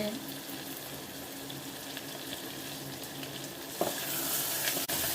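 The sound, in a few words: ginger garlic paste being sautéed and stirred in a pan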